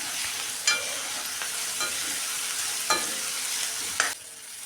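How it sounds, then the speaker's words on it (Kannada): Chopped onions and green chillies fry in a salted tempering, an even sizzle broken by four distinct stirring scrapes of a spoon against the pan, close and clear with no talk. "ಹಚ್ಚಿಟ್ಕೊಂಡಿರೋ ಹಸಿರು ಮೆಣಸಿನ್ಕಾಯಿನ ಸೇರಿಸ್ಕೊಂಡು ಸ್ವಲ್ಪ ಫ್ರೈ ಮಾಡ್ಕೊಳ್ತಾ ಇದ್ದೀನಿ."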